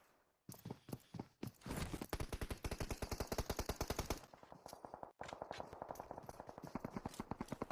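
Rapid automatic gunfire from a PUBG Mobile match, long rattling bursts of closely spaced shots that break off briefly and then resume, loud and close.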